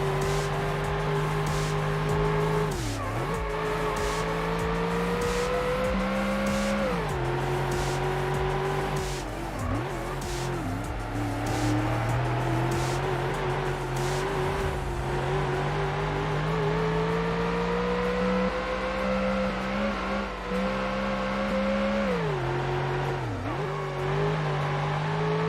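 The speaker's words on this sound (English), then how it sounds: "these engine sounds though definitely are a little bit grating" A car engine in the Ford Racing 1 video game drones loudly and without a break, its pitch climbing and dropping through gear shifts, with tire squeal and skidding mixed in and no talk.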